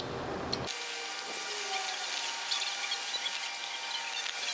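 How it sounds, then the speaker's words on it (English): A small high-speed rotary burr deburrs the freeze plug holes on a Dart LS engine block, giving a close, continuous high-pitched whining grind that holds steady throughout. "Now we'll knock a burr off these freeze plug holes just to make the freeze plugs a little bit easier to install."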